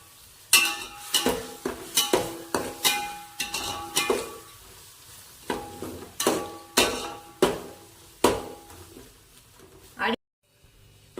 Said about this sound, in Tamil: அடி பிடிக்காம இந்த மாதிரி நல்லா கலரிக்கோங்க